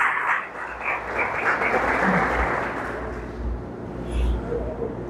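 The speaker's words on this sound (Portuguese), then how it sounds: "E a igreja diz amém e aplaude ao Senhor Jesus." Church congregation applauding during a Portuguese-language sermon, a full, steady roar of clapping from many people, with low rumbles and faint murmurs underneath for about five seconds.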